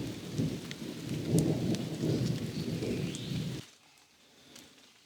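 Rolling low rumble of thunder over steady rain, which cuts off abruptly, leaving quiet patter and faint birds.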